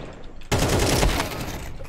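Gunfire in the Counter-Strike 2 video game: after a quieter stretch, a sudden loud burst of rapid shots hits and sustains a dense, close crackle that slowly tapers off, with no talking.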